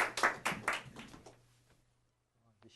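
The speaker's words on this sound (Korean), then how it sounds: "이상훈 대표님을 큰 박수로 앞으로 모시도록 하겠습니다" A small lecture audience gives a few quick bursts of clapping that thin out and stop within about two seconds, followed by near silence.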